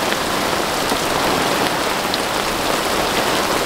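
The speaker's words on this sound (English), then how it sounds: "It is hailing and raining like crazy." Heavy rain mixed with hail pounds steadily on a campsite in the Ozarks, a dense, loud, unbroken hiss and patter with no voices over it.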